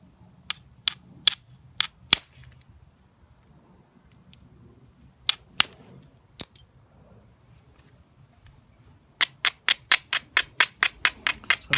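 Sharp stone-on-stone knocks ring out one at a time with pauses between as a hammer stone strikes to knap flakes, then a fast, steady series of hammer strikes near the end.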